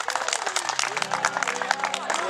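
An audience applauds at a Thai concert where a cover song is being played, claps crackling steadily and close alongside a sustained low tone and voices mixed into the crowd noise.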